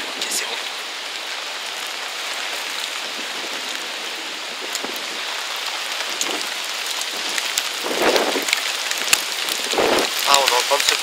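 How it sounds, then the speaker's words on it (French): Hail and rain pelt down outdoors in a steady hiss of drops striking surfaces, with sharper scattered impacts and brief voices talking near the end. "on est en train de se prendre de la grêle en plus là"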